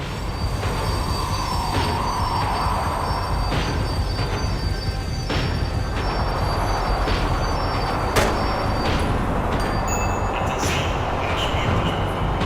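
A tram slows down in the video game Max Payne 3, with loud steady rail rumble, squealing wheels and brake hiss throughout, heard up close from on board.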